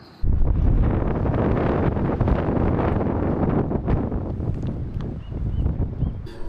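Strong gusting wind buffeting a microphone on the roof of a camper van, a steady loud roar that holds for several seconds without letup.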